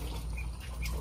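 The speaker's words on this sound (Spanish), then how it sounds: "Esta gallina es la cuidadora de un grupo de patitos." Ducklings being raised by a hen give a brief, faint run of squawky quacks and cheeps over a low, steady background hum.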